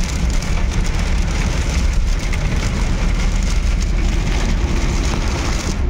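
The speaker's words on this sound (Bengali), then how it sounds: "এত ঝড় বৃষ্টি হচ্ছে।" Heavy storm rain pouring down on the road while travelling, a dense, loud and unbroken roar of rain striking surfaces close by.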